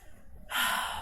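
A single close, airy breath during a yoga side stretch, starting sharply after a brief quiet and holding steady to the end.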